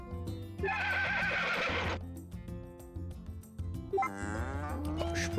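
A horse in the farming game Story of Seasons: A Wonderful Life whinnies twice, a loud burst near the start and another toward the end, over steady in-game background music.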